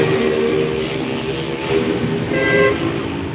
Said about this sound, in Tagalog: Ang ingay talaga ng buga-buga mga idol.